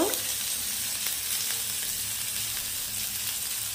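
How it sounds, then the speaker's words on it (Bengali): Chopped onion frying in hot mustard oil in a wok, a steady close hissing sizzle that starts with a brief burst and continues evenly, with faint stirring and no voices. "এখন তেলের সঙ্গে এই পেঁয়াজটা ভালো করে একটু ভেজে নেব।"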